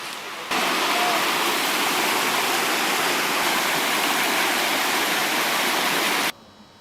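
Flowing water of the Cathance River rushes steadily and loudly as a close, continuous broadband stream or small waterfall, starting abruptly and cutting off near the end.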